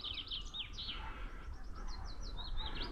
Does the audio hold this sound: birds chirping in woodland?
yes